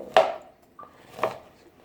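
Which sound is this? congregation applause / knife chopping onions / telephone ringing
knife chopping onions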